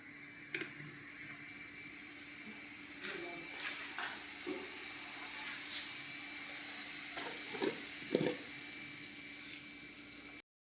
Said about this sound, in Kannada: ಒಗ್ಗರಣೆಗೆ ತೆಂಗಿನ ಆಯಿಲನ್ನು ಹಾಕ್ತಾ ಇದ್ದೇವೆ